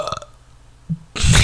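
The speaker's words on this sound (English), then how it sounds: "they're just gonna hear a fat burp" A loud, abrupt burp bursts out close to the microphone near the end, after a moment of quiet following brief earlier noise.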